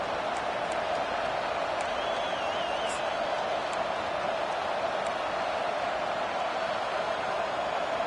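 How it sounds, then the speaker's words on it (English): Stadium crowd in a Madden football video game, a dense, steady roar of cheering that holds at an even level throughout, with a few faint whistles on top. "Listen to this crowd just shaking the girders of this place, trying to help their defense"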